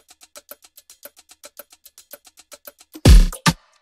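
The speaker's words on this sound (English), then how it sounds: "I just chopped and just used only the shakers" Shakers chopped out of a drum loop tick in a steady, evenly spaced rhythm of short soft hits, followed near the end by a couple of louder, fuller hits.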